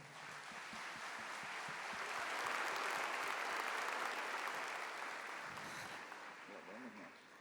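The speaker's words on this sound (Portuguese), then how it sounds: "Damos uma salva de palmas para ele." Church congregation applauding a priest, dense and sustained clapping from a large crowd that swells in the middle and then tapers off, with a voice rising faintly near the end.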